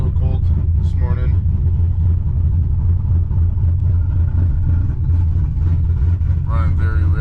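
A Chevrolet Silverado engine idles rough and rich on a cold morning, giving a steady, loud, low rumble throughout, with a voice briefly audible over it.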